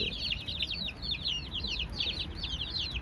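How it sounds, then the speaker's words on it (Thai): Fighting-cock breed hens and their chicks fill the air with constant high, rapid peeping and soft clucks, a busy, close flock chattering without pause. "อันนี้ก็จะเป็นกลุ่มนี้จะเป็นลูกไก่ที่มาจากสวนนะครับ แม่ไก่ที่ออกจากสวนนะครับ"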